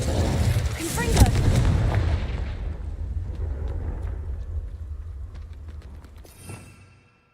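A Confringo explosive spell in Hogwarts Legacy goes off with a heavy booming blast and rumbling debris that slowly fades over several seconds, with a fainter thump later on.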